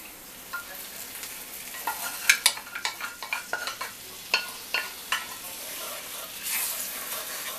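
Ground hamburger and gravy mix bubble in a pan on the stove while a utensil stirs and scrapes. The sizzle is soft, with a run of sharp clinks in the middle and a hiss swelling near the end.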